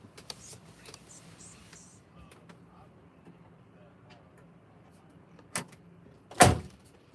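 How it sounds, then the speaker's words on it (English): A vehicle door shuts with a single fairly loud thud near the end, preceded by a smaller knock and quiet speech and background noise earlier. "I'm gonna close this door."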